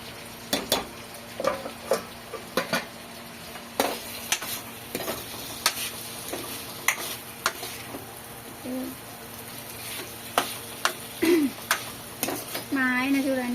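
Gongura chicken frying in a pan, with a steady sizzle under repeated sharp scrapes and clinks of a spoon stirring against the metal, close and clear, while birds chirp faintly in the background.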